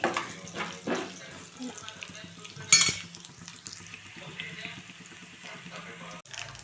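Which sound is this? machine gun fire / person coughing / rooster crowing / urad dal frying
urad dal frying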